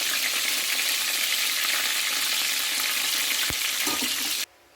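Spring rolls fry in hot oil with a loud, dense, constant sizzle heard up close, cutting off abruptly near the end.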